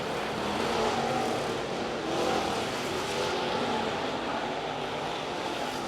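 Outlaw late model race cars roar around the dirt oval at Cherokee Speedway in a steady, dense wall of engine noise, with no gaps or voices.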